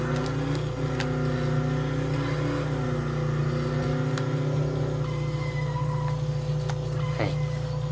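A car drives in the video game Dead Island, its engine holding a steady droning hum with slight pitch swells as it accelerates, loud and continuous with no talking.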